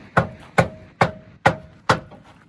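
A hammer striking the drive shaft of a Jeep out on an offroad trail, five sharp metallic blows in an even rhythm, close and fairly loud with no voices.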